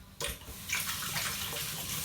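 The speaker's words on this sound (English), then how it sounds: "And then wash your hands." Water streams steadily from a kitchen tap as hands are washed at the sink, a continuous near splashing rush with no talk over it.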